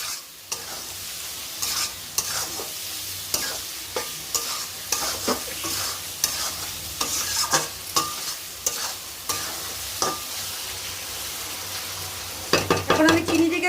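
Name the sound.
sugar being stirred in a hot pan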